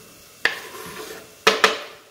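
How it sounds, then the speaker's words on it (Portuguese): Chopped onion tipped into a hot pan with rendered fat from bolognese meat sauce, giving one sharp clatter followed by two quick knocks of a utensil against the pan, with a faint sizzle underneath. "Vou pôr cebola."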